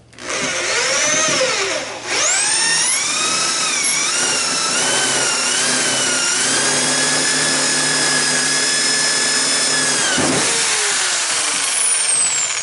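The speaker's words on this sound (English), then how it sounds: "I do have a drill, so that's what I'm using." A hand power drill whines loudly and continuously while building a bow press, its pitch rising as it spins up, dipping briefly and then holding steady, with a short pause near the end.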